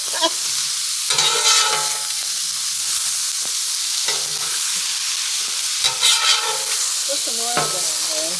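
Marinated chicken breast with soy sauce, chili sauce, ginger and garlic sizzles loudly on a Blackstone griddle, a constant hiss broken by scraping spatula strokes and clinks.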